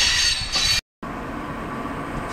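A short train rolls along the rails, a moderate rumble with faint wheel squeal and hiss, broken by a brief cut to silence before the steady rolling continues more quietly.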